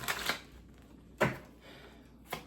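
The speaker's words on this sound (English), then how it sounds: "let me do another shuffle" A deck of cards is shuffled by hand during a spiritual card reading, heard as three short, crisp riffling bursts spaced about a second apart, close and fairly quiet with no talking.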